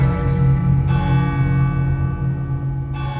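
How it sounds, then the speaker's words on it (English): Funeral bells toll during a staged convention masquerade performance, a loud, reverberant, sustained ringing tone that swells and fades across the moment with no voices over it. "Listen, the bells of your funeral."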